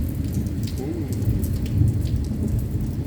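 Thunder rumbling low and continuous beneath steady heavy rain during a daytime storm in Mazatlan, with dense rainfall hiss throughout and a swell of rumble near the middle.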